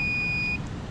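Multimeter continuity beep during a check of refrigerant pressure switch leads, a single steady high tone about half a second long, close and clear over a faint background hum.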